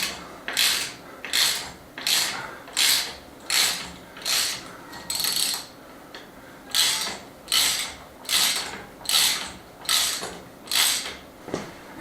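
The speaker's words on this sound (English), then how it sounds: "That's all 5 bolts in. I guess it's just a case of tightening them down now." Ratchet wrench tightening hanger bolts on a rustic sliding door during a stone finca restoration in Spain, about a dozen steady ratcheting strokes in a regular rhythm, close and clear with no talk.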